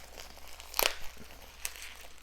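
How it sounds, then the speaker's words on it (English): A package of metals is cut open up close, with soft crinkling plastic rustles and two sharp, bright crunches or tears standing out against a quiet background. "I'm just going to cut this open off camera, folks"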